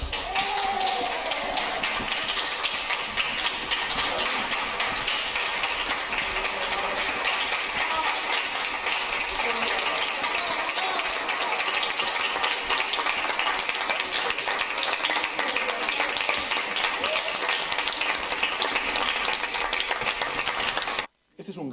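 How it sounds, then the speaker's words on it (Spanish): Party members applaud Pedro Sánchez in a parliamentary hall, a dense, steady wash of clapping that runs loud and unbroken for about twenty seconds before cutting off abruptly. "Es que ha hecho que los suyos le aplaudan"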